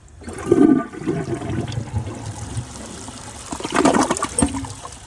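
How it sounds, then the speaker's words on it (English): A Glacier Bay high efficiency toilet flushes, two flushes heard in quick succession as a close, loud rush of water swirling and draining, with trickling between the surges. "Those were 2 flushes."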